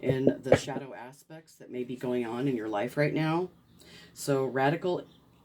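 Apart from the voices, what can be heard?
No everyday noises stand out.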